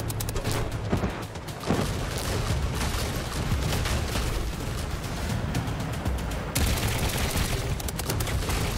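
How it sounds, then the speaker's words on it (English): Aircraft guns firing in the Trailmakers video game, a rapid, continuous rattle of automatic gunfire that runs the whole time at a steady level, with a brief lull near the start. "We'll shoot with what we've got left."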